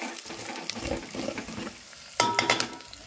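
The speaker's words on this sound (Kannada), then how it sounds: "ಉಳ್ಳಾಗಡ್ಡಿ ಫ್ರೈ ಹಾಕ್ಬಿಡ್ಬೇಕು" Long-cut sliced onions fry in a pan and are stirred, with a soft crackling sizzle broken by scraping and clinking of a utensil against the pan.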